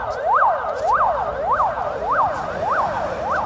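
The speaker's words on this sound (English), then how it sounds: "we've got an ambulance here." An ambulance siren wails in a steady repeating up-and-down cycle, about six sweeps over a few seconds, loud and continuous against a city backdrop in Russia.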